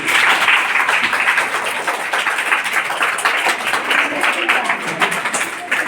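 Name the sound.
applause for quiz participants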